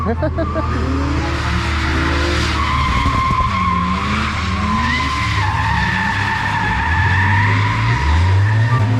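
A KTM motorcycle slides sideways on dry asphalt, its engine revving loudly and close with rising and falling pitch while the tyre skids and squeals continuously.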